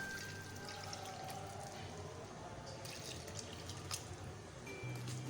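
Water is poured into a pot of meat for shami kabab, a continuous, fairly faint stream splashing steadily in a kitchen.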